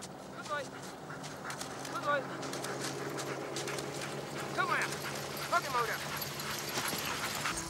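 Sled dogs yipping and barking at the start of a race stage in Andorra in the Pyrenees, with short high yelps in scattered bursts under a narrator's voice and a busy outdoor background.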